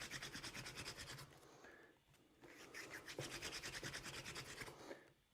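Quiet, rhythmic wooden rubbing and scraping from a wooden hand drill in quick back-and-forth strokes, pausing briefly midway before resuming, close by with no speech.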